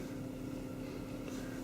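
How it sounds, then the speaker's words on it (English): A Volkswagen Golf V's engine cooling fan runs with a steady, low, even whir that stays constant and fairly quiet, with no talk over it. "the engine fan kicked on again."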